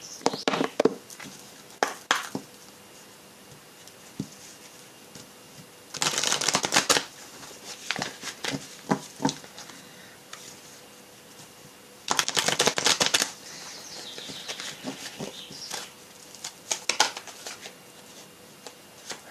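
Oracle cards for a tarot-style reading being shuffled in two loud, dense riffling bursts, with lighter taps and card handling in between and no talking.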